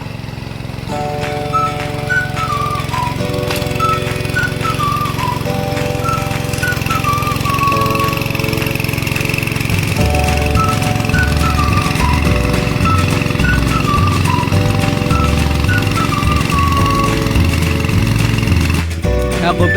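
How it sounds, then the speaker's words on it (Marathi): A tractor engine drones steadily and loudly throughout in a paddy field during fertilizer spreading, with a repeating melodic tune playing over the rumble. "मयूर दळवी ट्रॅक्टर धरता"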